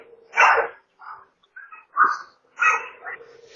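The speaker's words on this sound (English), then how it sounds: "I'm having trouble hearing you on the camera over my dog." A dog barks in several loud, close bursts, about four sharp woofs with whiny, yelping edges, picked up through a doorbell camera microphone with quiet gaps between them.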